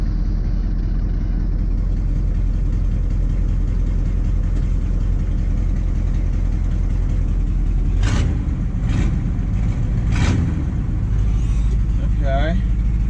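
A 1985 GMC 3500 with a 6.2 Detroit Diesel engine runs with a steady, low rumble. Near the end, several loud mechanical clunks are heard as the PTO engages.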